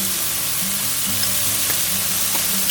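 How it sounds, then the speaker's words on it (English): A beaten egg hits a hot pan and sizzles steadily with faint stirring clicks, close and fairly loud, while a prawn rice dish is cooked outdoors at a bivvy. "Okay, straight in with the egg."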